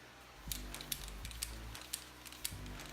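A Milwaukee tubing cutter is cranked around type L copper tube, a faint ratcheting, clicking turn with low mechanical rumbles and small sharp ticks at a steady pace, heard alone.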